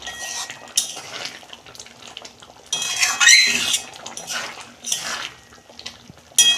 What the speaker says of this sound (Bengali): আমি ঢেলে ফেলছি